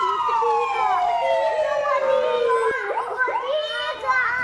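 A fire truck siren sound effect plays as one loud, descending wail, followed by excited children's voices over rising and falling tones.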